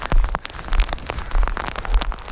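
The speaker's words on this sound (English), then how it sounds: "We just getting a lot of rain this trip" Rain pattering in the Beartooth Mountains of Montana, dense close drops tapping irregularly on a surface, likely a tent or gear, steady and fairly loud with no talk.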